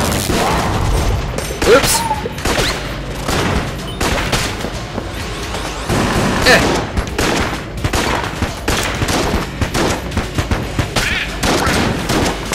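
Rapid, dense bursts of gunfire in the Enter the Gungeon video game, loud and near, with booming impacts overlapping and only brief pauses, under a player's excited voice.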